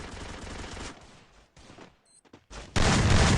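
Gunfire in a mobile shooting game match, a rapid burst of shots, then quieter sparse sounds and a loud final blast of fire.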